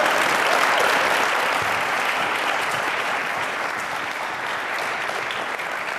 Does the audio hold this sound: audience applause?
yes